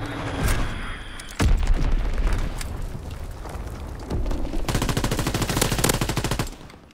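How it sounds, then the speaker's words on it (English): In a WW2 video game, a sudden heavy bomb blast thumps in near the start, followed by rolling rumble and then rapid, steady machine-gun bursts close by, with no talking. "Enemy bomb incoming."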